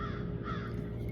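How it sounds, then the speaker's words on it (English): A crow caws a couple of times, faint and distant, over a low steady outdoor rumble. "I hear the crows."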